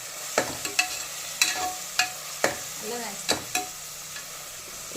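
Curry leaves crackle and fry in hot oil, a constant sizzle broken by regular sharp spoon clacks against the pan at close range.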